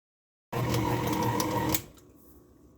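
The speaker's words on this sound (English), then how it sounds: "you can see my poor little KitchenAid moves" A KitchenAid stand mixer kneading bun dough whirs steadily with a rhythmic mechanical rattle at close range, then switches off and fades into quiet.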